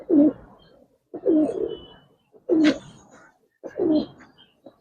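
Pigeons of a giribaz or coloured fancy breed coo close by in four evenly spaced, throaty phrases, each with a soft trailing tail, and no talk over them.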